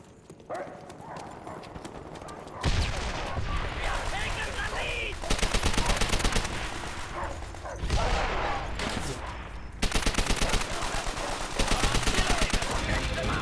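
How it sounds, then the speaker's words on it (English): LMG machine gun fire in Call of Duty: World War 2 comes as repeated loud bursts of rapid automatic shots over busy game noise, with a voice talking throughout. "That dude just was laying down the LMG in my spawn."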